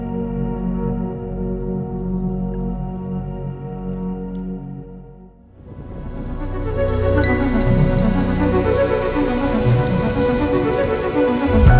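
Heavy rain pours down at a beach in Norway. After a quieter, tonal opening, a loud, hissing downpour surges in and holds steady to the end.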